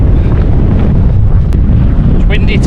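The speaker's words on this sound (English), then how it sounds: "It's windy today, as you can probably tell" Strong wind on the North Yorkshire Moors buffets the microphone in a loud, continuous low roar with a few sharp gust thumps.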